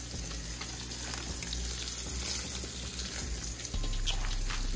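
An egg sizzles in a frying pan, a steady close crackle that runs without a break and grows slightly louder near the end.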